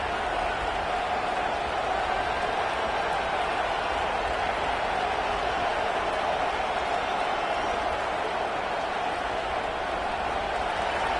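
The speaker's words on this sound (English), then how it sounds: "Listen to this crowd just shaking the girders of this place, trying to help their defense." A dense, sustained roar from a large college football stadium crowd fills the space, steady and loud throughout with no pauses or distinct voices standing out.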